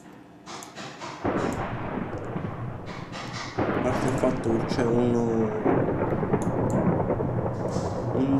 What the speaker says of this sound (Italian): un temporale mai visto fuori